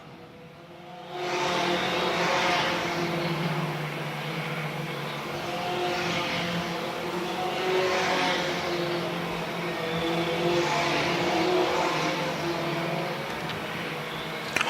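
Stock cars race around Dillon Motor Speedway, engines droning in a steady rising and falling roar as the field circles the track, heard from a distance, with no talk over it.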